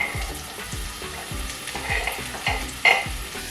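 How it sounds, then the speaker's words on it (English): Onions sautéing in a pot for chana masala sizzle at low-medium heat while a spoon stirs in quick, regular scraping strokes, close and without speech. "You want to saute them. So on a low, medium heat, you know, keep stirring them."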